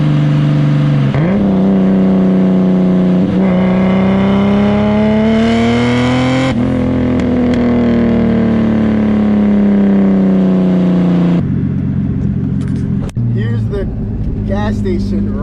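A 500whp turbocharged M50 engine in a BMW E30, heard from inside the car while driving, pulls hard through rising revs, shifts, and climbs again in loud, close, sustained acceleration.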